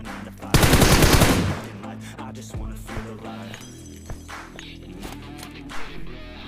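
Burst of rifle gunfire from a BGMI mobile battle game, a loud rapid volley near the start, followed by quieter game ambience with scattered clicks and thumps.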